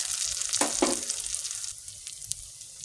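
Garlic and ginger sizzle in a hot pan while cooking at home, a steady close frying hiss with a couple of brief stirring scrapes, no talking.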